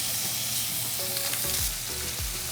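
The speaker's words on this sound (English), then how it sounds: "Right now we're focusing on the sear here." Steak searing in a hot pan toward medium rare, a loud steady sizzle close up with occasional scraping stirs and brief clinks, no voices.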